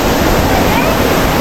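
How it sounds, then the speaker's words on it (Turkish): Waterfall in a tropical rainforest, a loud, dense, unbroken roar of rushing water filling the whole short stretch. "Çoğu karşıda da bir şelale bulunuyor."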